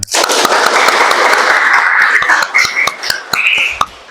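A classroom of students claps together in a dense burst that starts sharply and fades over about four seconds, with a few stray claps at the end and no talking.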